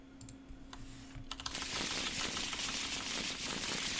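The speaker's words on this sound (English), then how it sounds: "We'll give the encounter deck a quick shuffle." Quick shuffle of an Arkham Horror card game encounter deck, starting with a few soft clicks and then a dense, riffling patter of cards that fills the second half, close and fairly quiet.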